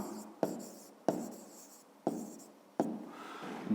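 A pen writing on paper during a maths exercise, making four sharp tapping strokes at regular intervals, each followed by a short scratchy trail, close and clear against quiet surroundings.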